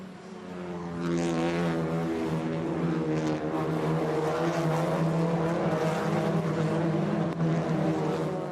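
TCR touring race cars at the Hungaroring circuit roar past in a pack, several engines layered with strong harmonic buzz that swells loudly after a second and stays dense and close, with no voices.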